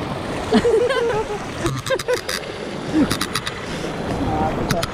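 A strong river current rushes and splashes in a steady, loud wash. People talk over the water.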